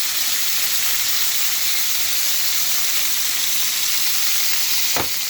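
Steaks sear in a hot pan with a loud, constant hiss and sizzle, close up, broken by a single brief clatter near the end, with no talking.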